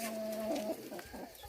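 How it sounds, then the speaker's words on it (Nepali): Chickens on a farm cluck and chatter while eating feed, with a steady run of close, fairly loud calls and no talking. "कुखुराको चारो खाने पनि पो कस्तो राम्रो रहेछ"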